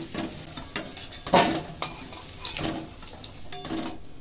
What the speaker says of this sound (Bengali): ফোড়ন দিচ্ছি শুকনো লঙ্কা